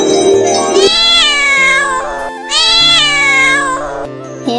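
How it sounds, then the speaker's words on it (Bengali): A cartoon cat gives two long, loud, drawn-out meows, close and clear with no talk, ending with a short chime-like tone. "এখন মেও মেও করতেছ"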